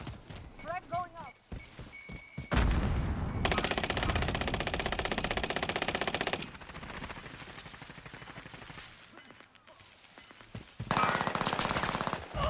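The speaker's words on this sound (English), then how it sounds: "Frag going out." Gunfire and a frag grenade blast in the Call of Duty Warzone video game: a long, loud, dense burst of rapid shots dominates the middle, with scattered shots and game noise before and after, and voices partly audible.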